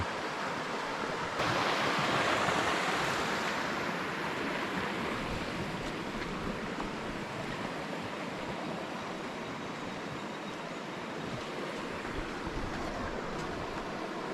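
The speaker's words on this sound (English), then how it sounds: "What a waterfall." Waterfall at an outdoor bush camping spot, a continuous broad roar of falling water that is steady and fairly close, with no voices.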